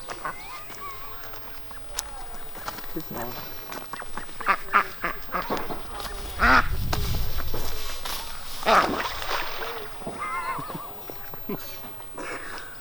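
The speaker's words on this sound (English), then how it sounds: "Didn't Jeff Lawton once say that ducks are a great thing to have in a garden?" Ducks quack and honk in a permaculture garden on a farm, a busy chorus of nasal calls rising and falling, with a deeper rumbling swell in the middle and background farm noise.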